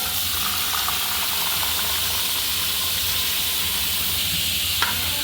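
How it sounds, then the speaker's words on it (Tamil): Chopped vegetables hiss and sizzle steadily in hot oil as they are stirred in the pan, a continuous even frying sound with a single light clink near the end. "இப்போ நம்ம அதில் உள்ள வெஜிடபிள் போட்டுக்கலாம்."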